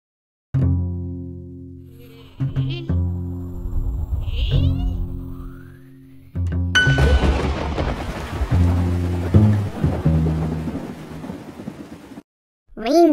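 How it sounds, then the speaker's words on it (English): A rainstorm with rain and thunder in an educational game, heard as heavy rain hiss over low thunder rumbles, loud and close, mixed with cartoonish tonal effects and a cat-like meow. "A rainstorm is a bunch of clouds, rain, thunder, and lightning."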